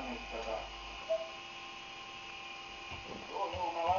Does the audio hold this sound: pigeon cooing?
no